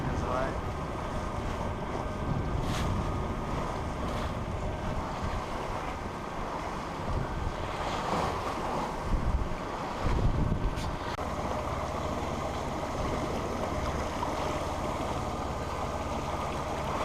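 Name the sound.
wind and waves while sailing a sailboat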